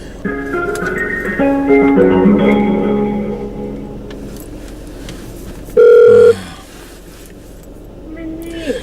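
Phone ringback tone on an outgoing call, a steady electronic beep sounding once loudly partway through, after a stretch of musical tones and before a quiet pause.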